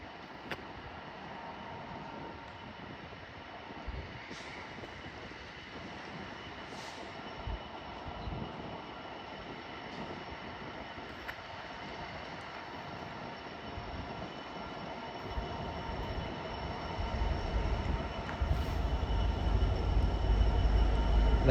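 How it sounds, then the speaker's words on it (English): A Freightliner Class 66 diesel locomotive hauls a container freight train past Nuneaton on the West Coast Main Line. A faint, distant rail rumble with occasional wheel squeal builds steadily louder toward the end as it approaches. "our next freight to come through now will be a Freightliner 66 running a container train from London Gateway to Lawley Street"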